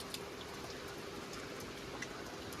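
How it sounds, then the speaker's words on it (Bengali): Heavy rain falls in a dense, unbroken patter that stays at the same level throughout, faint and somewhat distant, with occasional sharper drips and no voices. "অনেক বৃষ্টি হচ্ছে, চলো দেখো সারা রাত ধরে বৃষ্টি হচ্ছে ভাই।"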